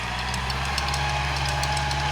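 A farm tractor engine idles steadily and loudly up close in a field during land preparation, a constant low rumble with a slight knocking texture and no talk over it.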